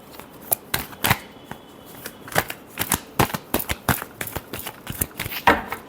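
Tarot cards riffled and shuffled by hand, a rapid series of crisp, close flicks and snaps in uneven bursts, no voices.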